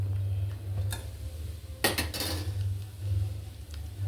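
A spoon clinks and scrapes against a pan while rice is mixed into a beetroot and carrot rice dish, with a few sharp metallic taps and a brief cluster of louder clatter over a low steady hum.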